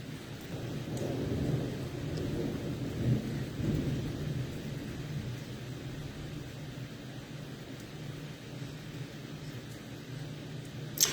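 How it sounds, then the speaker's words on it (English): Rain falling outside during a thunderstorm: a steady, moderately loud broadband hiss with low rumbling swells throughout, no clear speech. "It's raining outside as well"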